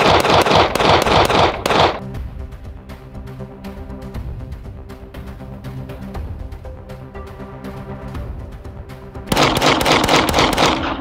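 Glock pistol firing in a function check at an outdoor range: a loud dense burst of sharp reports at the start, quieter ringing and handling noise in between, then another loud burst of shots near the end.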